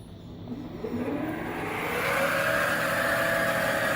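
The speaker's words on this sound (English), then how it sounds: "And now I've got the lathe spindle going." A lathe spindle starts up and spins toward 2500 RPM, its motor tone rising in a smooth whine that climbs and then settles into a steady, moderately loud hum, with no talking.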